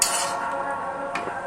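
Chicken pieces coated in ginger garlic paste stirred and tossed in a frying pan, with a steady close sizzle, utensil scraping against the pan and a brief clink near the end.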